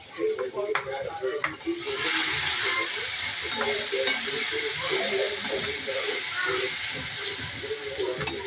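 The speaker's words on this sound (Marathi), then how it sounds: "कांदा टमाटा भाजून घ्यायचं चांगला तेलात." Onion and tomato fry in oil in a pan, a steady loud sizzle with stirring scrapes and clinks; a voice speaks briefly in the background at the start.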